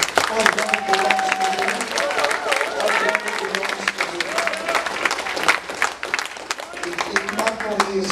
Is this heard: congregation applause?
yes